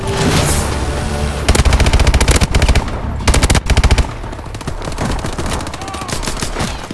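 Rapid machine-gun fire rattles in loud bursts during Exo Survival gameplay in Call of Duty: Advanced Warfare, with dense battle noise filling the gaps between volleys.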